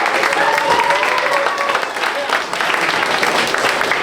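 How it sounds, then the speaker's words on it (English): Audience applause at a journalism program's closing ceremony, a steady dense wash of clapping filling the whole stretch, with crowd noise and a voice faintly under it. "Let's give everybody here one last round of applause."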